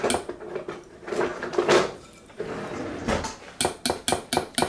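Kitchen utensils clatter and scrape as someone rummages for a small spatula, ending in a quick run of sharp metallic clinks, close by with no talk.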